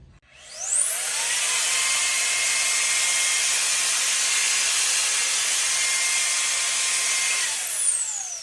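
A Ryobi handheld leaf blower spins up into a steady, loud high-pitched whoosh of air, blowing leaves out of a groove, then holds a constant roar before winding down at the end.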